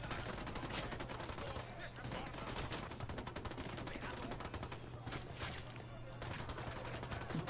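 Rapid gunfire from the video game Ghost Recon: Wildlands rattles almost without pause, a dense run of close shots with some heavier blasts mixed in.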